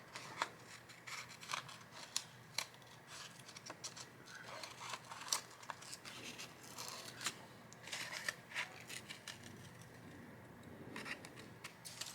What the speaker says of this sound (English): I might as well just cut it straight.